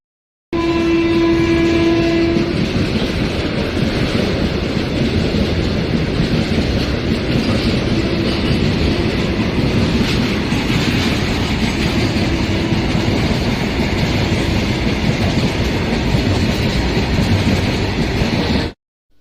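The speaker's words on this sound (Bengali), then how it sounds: "প্ল্যাটফর্ম দিয়ে থ্রু ট্রেন যাবে" A through train roars past a railway station platform, loud and close, opening with a short horn blast and then a continuous rushing rumble of wagons for the rest of the clip.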